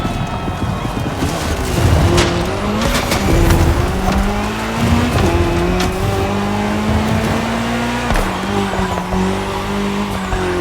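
A car and a KTM motorcycle race in The Crew Motorfest, with loud engines revving and shifting through rising gear pitches, tires squealing and skidding, and overlapping motor drones close up throughout.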